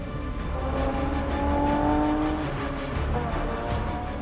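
A bone-stock, naturally aspirated Nissan 370Z V6 on road tyres laps Bathurst's Mount Panorama, its engine a loud, steady close drone from inside, the pitch climbing gradually under load.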